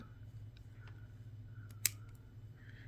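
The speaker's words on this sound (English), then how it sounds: "So I am going to cut some more of this wire off, and I'm just going to cut it right here." A single crisp snip of scissors or cutters through flexible beading wire while making a beaded anklet, one sharp click alone over a low steady hum in a quiet room.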